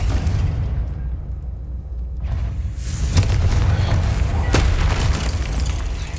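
Explosive spell blasts in the video game Hogwarts Legacy: heavy, booming detonations with deep rumbling low end, a loud burst around the middle followed by sustained roaring debris and further thumps, dense and continuous.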